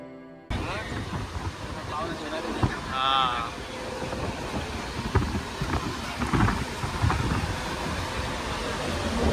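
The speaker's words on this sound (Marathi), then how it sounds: "पाऊस जोरात आलाय." Heavy monsoon rain pours in Chinchpokli, Mumbai, during a crowded Ganesh festival padyapujan gathering: a loud, steady hiss of downpour throughout, with scattered voices of the crowd talking beneath it.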